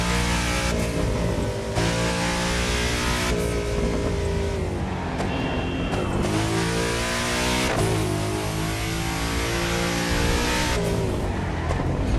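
A BMW M8 in the racing game The Crew 2 revs hard and loud, the engine note climbing and dropping through repeated surges with turbo whooshes and flutter between gear changes, heard alone without talk.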